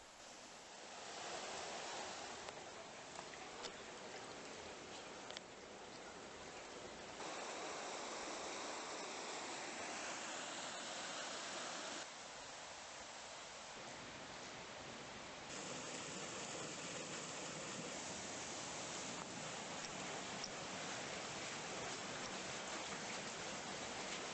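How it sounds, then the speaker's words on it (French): Water gushes steadily out of a pipe into the Canal des Moulins in Moirans, Isère, a broad, continuous splashing roar heard up close, nearly unchanging throughout. "Voici l'eau qui ressort du tuyau"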